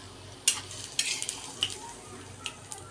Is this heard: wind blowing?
no